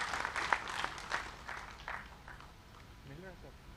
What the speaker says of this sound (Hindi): हम चाहते हैं कि आप इन विशिष्ट अतिथियों का स्वागत जोरदार तालियों के साथ करें।